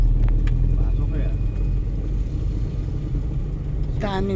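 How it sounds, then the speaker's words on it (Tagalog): A car pulls in at a crowded market parking area, its low engine rumble steady and close throughout, with voices talking over it and a brief higher noise near the end. "Papasok siguro tong kotse."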